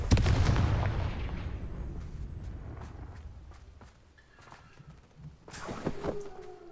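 A Confringo fire spell in Hogwarts Legacy explodes in a loud booming burst that fades out, followed by scattered impacts and clattering game effects, with another sharp blast near the end.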